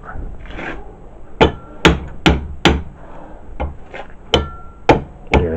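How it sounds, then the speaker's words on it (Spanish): Sharp, evenly spaced taps of a rubber mallet on metal parts of an alternator being disassembled, about nine knocks in a steady rhythm, close and fairly loud. "y ahora con el martillito de goma"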